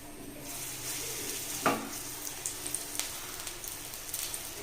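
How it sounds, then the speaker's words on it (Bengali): Taro flower pakoras go into hot white oil, giving a low continuous sizzle with one brief sharper clatter near the start and a few soft ticks after it, all fairly quiet. "এখন পাকোড়াগুলো ভেজে নিব"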